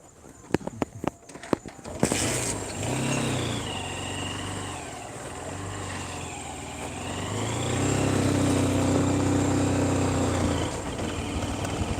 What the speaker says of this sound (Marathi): तो पण ऊसाचा ट्रॅक्टर आता आलेला आहे